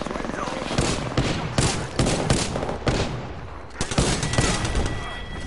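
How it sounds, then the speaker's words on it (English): Rapid gunfire in the Apex Legends battle royale video game, dense bursts of shots cracking repeatedly throughout, loud and close, with a player's voice heard over the firefight. "Taking fire!"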